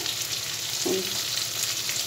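Marinated chicken pieces for chilli chicken fry in hot oil, a dense, even sizzle close up with one brief clink partway through and no talking.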